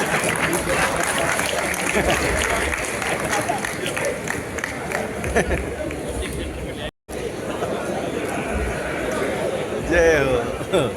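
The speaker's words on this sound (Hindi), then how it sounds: "तालियों की कठोर ध्वनि से अभिनंदन करें हमारे राज्यसभा सांसद राजेंद्र जी गहलोत।" An audience at a Rajasthan political event applauds to welcome Rajya Sabha MP Rajendra Gehlot, steady clapping and crowd chatter throughout, with a brief drop-out midway.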